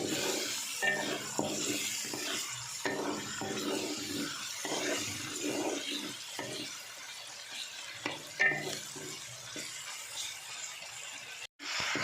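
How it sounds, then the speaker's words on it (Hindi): Tomatoes fry with ginger and garlic in a pan, giving a steady soft sizzle broken by repeated stirring scrapes and light utensil clinks, close and continuous without talk. "अब इसमें टमाटर शामिल कर देंगे और इन्हें नरम होने तक फ्राई करेंगे"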